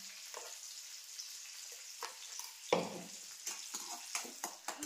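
Homemade paneer frying in a pan makes a faint, thin sizzle broken by soft irregular pops and spatula scrapes.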